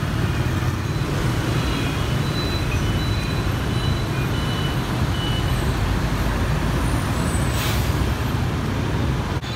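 Busy street traffic in Hanoi, Vietnam: a steady, dense roar of engines and passing vehicles with occasional horn-like tones, continuous and loud throughout.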